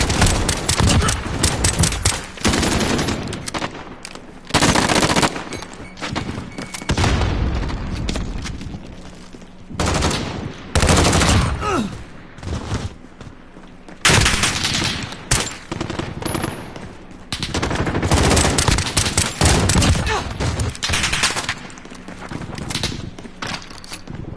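Gunfire from a Call of Duty sniper rifle in game, loud sharp shots in dense, nearly continuous bursts with brief lulls, close and steady for the whole stretch.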